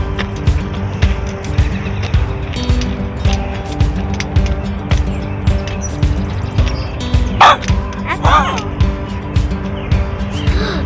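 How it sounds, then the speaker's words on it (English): A dog in an off-leash park area barks repeatedly at visitors, a rapid run of loud, close barks that continues throughout with faint background noise. "That dog hates visitors. He's barking at us."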